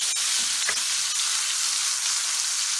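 A T-bone steak fries in butter in a pan, giving a loud, dense, continuous hiss and sizzle up close, with a couple of brief knocks near the start and no speech.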